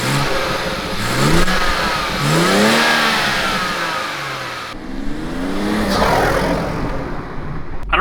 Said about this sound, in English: this is what the inlet and intake sounds like